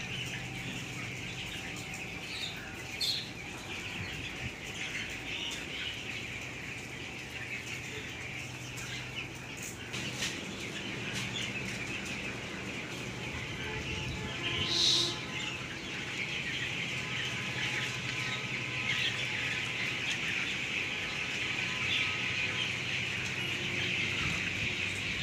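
Broiler chickens at a poultry farm give soft, steady clucks and calls that blend into a constant, moderately loud flock murmur, with a few sharper squawks and a brief flutter of wings partway through.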